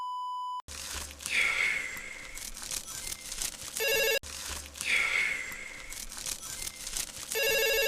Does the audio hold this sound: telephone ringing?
yes